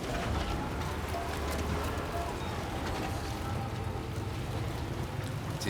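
Steady heavy rain falls throughout in Death Stranding 2, a dense even hiss with faint low rumbling beneath, continuous and close with no clear voices.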